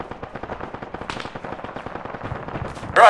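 Rapid, steady machine gun fire in an Arma military combat scenario, loud and continuous throughout with evenly spaced shots and a sharp burst at the end.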